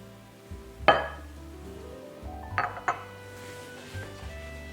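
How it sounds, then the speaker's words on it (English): Utensil clinking against a bowl while beaten egg is mixed into chopped vegetables for kookoo sabzi, a herb omelette; a few sharp clinks and scrapes stand out over a quiet background, with no talking. "Now I am going to put the beaten egg inside and mix it all together."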